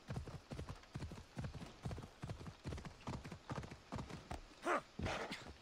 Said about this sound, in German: Und jetzt reiten wir durch den Wald.